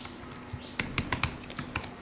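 Keystrokes on a computer keyboard while a line of code is entered, a short run of about a dozen light, irregular clicks heard close and quiet over a faint hum.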